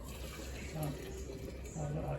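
Tomato juice pouring steadily into a canning jar, a close watery splashing that runs continuously, with a low hum underneath.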